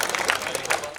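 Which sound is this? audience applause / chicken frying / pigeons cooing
audience applause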